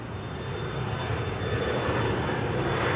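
An Air France Embraer 175 jet at Amsterdam Schiphol makes a loud, steady engine roar that builds gently over the few seconds, with no talking.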